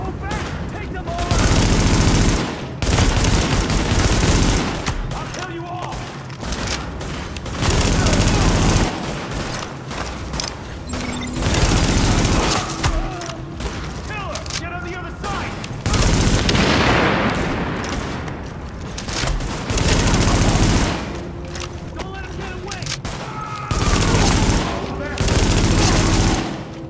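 Heavy sustained gunfire from a rooftop gunner in a video game battle, loud repeated volleys and bursts with booming impacts, voices and game dialogue heard underneath.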